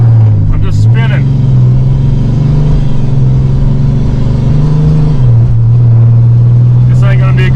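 A tuned Cummins diesel truck revs hard with its wheels spinning, a loud, steady low engine drone that rises slightly in pitch and then drops back, with brief bursts of noise near the start and end.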